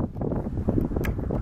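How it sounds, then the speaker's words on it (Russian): Steady low roar of strong wind buffeting the microphone outdoors at an air rifle shoot, rumbling continuously with a couple of brief higher gusts. "Ветер сильный"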